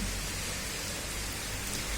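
Steady rain falls without a break, a dense, even hiss that fills the whole stretch with no voices on top.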